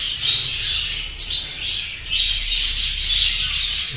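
Budgerigars in a breeding colony chatter continuously, a dense steady mix of chirps and squawks from many birds at once, fairly close and loud, with no talking.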